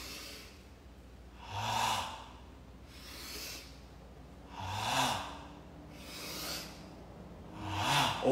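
Slow, deep breathing during a stretching exercise, with long, airy inhales and exhales swelling and fading roughly every one and a half seconds, close and fairly loud, with no talking.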